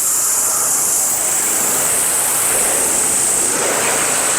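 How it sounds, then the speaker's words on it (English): A garden hose sprays a steady, loud stream of water to rinse Simple Green cleaner off the engine of a 2015 Ford Focus, a constant rushing hiss with no pauses throughout. "let's rinse off the Simple Green good stuff"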